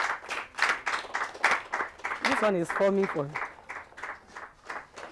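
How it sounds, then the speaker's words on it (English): An audience at an acting tutorial session claps in a steady run of fairly faint, regular claps, with a person speaking briefly over it midway. "Can you clap for him? Clap for him."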